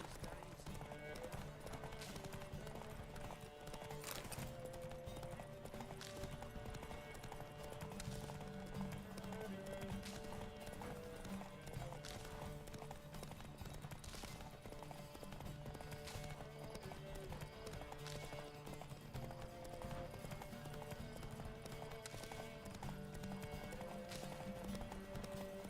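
Horse hooves galloping in the Witcher video game, a fast, steady clip-clop rhythm that stays even and continuous under game music and ambient sound throughout.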